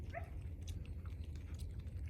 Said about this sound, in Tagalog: Mahirap lang dun sa aso nang dadamba.